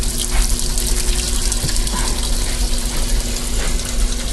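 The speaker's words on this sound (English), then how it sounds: "I'm going to run some water in it." Tap water gushes steadily into a pan in a home kitchen, a continuous rushing splash with no pauses and no talking.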